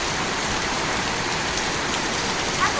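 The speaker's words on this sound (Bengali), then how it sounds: "এত ভালো লাগতেছে বৃষ্টিটা দেখা" Steady rain falling and pattering on surfaces, a dense, even hiss that stays constant throughout, close and fairly loud.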